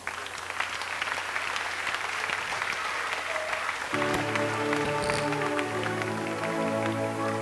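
A church congregation claps together in a sustained burst of applause, with a steady mix of many hands that becomes slightly denser and more rhythmic midway, at a moderate distance and with no clear speech.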